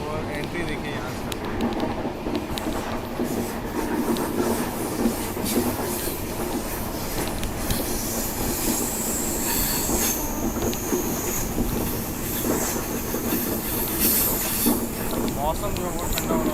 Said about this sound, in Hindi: देखिए अभी अपनी ट्रेन वहाँ से निकलेगी और एंट्री देखिए यहाँ से।